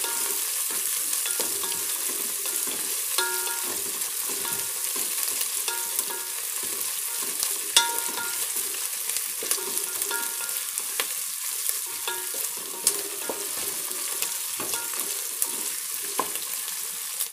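Garlic paste fries in a pan, a steady sizzle with occasional stirring scrapes throughout, close and continuous with no talking, as the start of a restaurant-style veg biryani.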